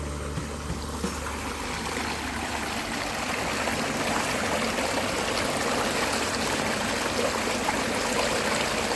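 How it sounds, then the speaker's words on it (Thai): Small forest waterfall feeding a flowing stream on a nature trail, a steady broadband rush of water that stays even and continuous throughout, moderately close with no voices. "น้ำตกน้อย"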